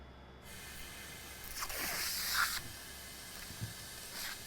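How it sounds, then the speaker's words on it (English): A protective film is pulled off the clear plastic lid of an S&B cold air intake for a Nissan Titan XD, giving a soft, drawn-out crackly peeling hiss lasting about a second, close by, followed by faint handling noises. "Now we're going to pull the protective layer off of our clear lid"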